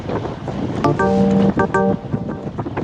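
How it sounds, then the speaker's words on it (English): Rough, gusty wind buffeting the microphone while cycling, with a brief tonal hum cutting through the rumble. "It's very windy. We have it dubbed when we do post-production work, but you can still hear it."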